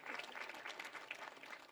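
Audience applause for a minister after his acceptance speech at a formal Namibian event, a steady, fairly quiet patter of clapping hands that continues evenly throughout without voices.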